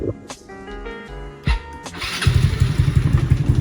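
A Yamaha Mio scooter with a Shijiro Kenochi aftermarket exhaust and dB killer starts with a few sharp blips, then settles into a loud, throaty, pulsing idle with a rough, uneven exhaust rumble.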